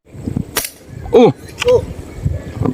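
A few sharp outdoor pops like small gunshots, separated by pauses, with wind noise and brief voices in between.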